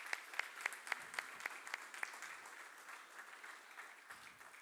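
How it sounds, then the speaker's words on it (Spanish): Church audience applauding the fathers in the congregation, a faint, distant patter of clapping with sharper claps at the start that thins out and fades. "le damos un aplauso a los papás en realidad"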